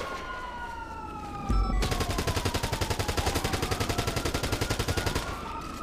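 A shootout in the GTA RP game erupts with a dense, rapid burst of automatic gunfire. The shots fire in quick succession for several seconds, loud and close, over faint siren-like tones.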